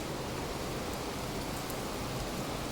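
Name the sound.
heavy rain pouring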